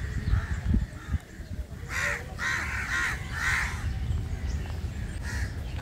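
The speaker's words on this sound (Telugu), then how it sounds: "అది చూడండి కాకులు చూడండి ఎట్లా చేస్తున్నాయి చూడండి." Crows in Krishna Kanth Park, Hyderabad, caw in a cluster of repeated harsh calls at moderate distance over a low outdoor background rumble.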